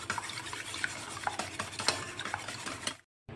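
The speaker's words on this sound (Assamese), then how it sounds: "এটা হেণ্ডউইচ দি একদম ভালদৰে ফেটি ল'ম।" Egg whites beaten by hand with a whisk in a bowl for cake batter give a steady, busy scraping and clatter of quick strokes. They run without a break for about three seconds and then stop abruptly.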